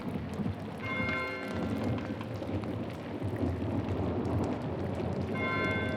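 Rain pours steadily during a thunderstorm in the medieval adventure game Pentiment, with a deep rolling rumble of thunder under the constant hiss. Faint in-game tones chime briefly.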